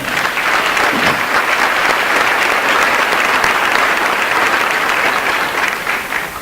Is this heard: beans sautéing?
no